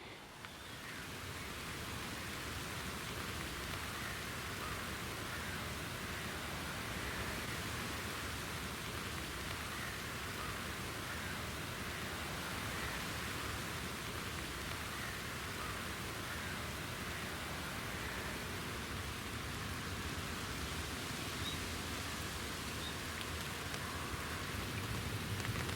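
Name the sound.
heavy rain falling outside a fishing bivvy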